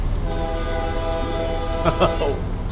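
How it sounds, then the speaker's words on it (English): A freight locomotive horn in Train Simulator sounds with the cab window open, a sustained multi-tone chord over steady engine rumble, and a few brief voice-like bursts near the end. "Listen to the horn when the window's open."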